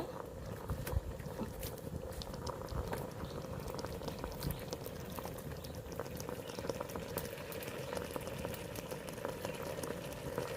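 Country chicken pieces sauté with turmeric and salt in a pan, giving a steady, dense bubbling sizzle that holds evenly throughout at close range with no voices.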